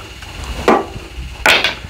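Two sharp hammer blows ring out about a second apart, loud and metallic, striking to loosen a lawn mower engine's flywheel.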